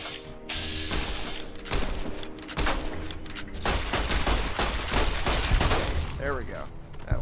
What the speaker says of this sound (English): let's switch to the pistol for a little close range shooting